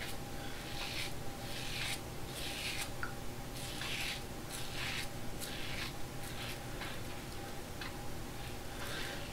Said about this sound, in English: Can hear the blade cutting.